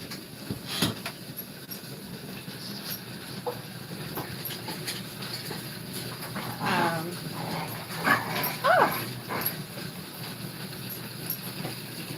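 Pet dogs romp around a small lapidary workshop room, with scattered yips, whimpers and scuffling movement over a steady background hum and a few louder bursts near the end.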